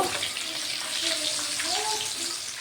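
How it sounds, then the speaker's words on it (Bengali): Eggplant slices fry in hot oil in a pan, giving a steady close sizzle with light scraping as they are turned over. "বেগুনগুলো এইভাবে আমি ভেজে নেব উলট পালট করে।"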